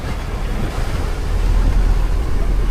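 Ocean waves at sea off Dilasag, Aurora, with a low-pressure area nearby, roar as a dense, loud wash mixed with heavy wind buffeting the microphone, continuous and close, with no voices.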